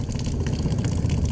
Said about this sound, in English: I like to relieve the pressure by opening up a valve and letting the water